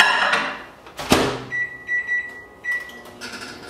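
A microwave door clicks, then several short electronic beeps sound as the oven's hum carries on nearby, heating frozen Skyline chili and spaghetti.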